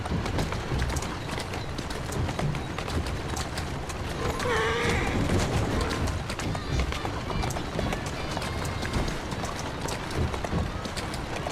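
A horse gallops through city streets in Assassin's Creed Syndicate, with steady hoofbeats and a brief whinny in a busy game soundscape, while someone speaks to the horse over it.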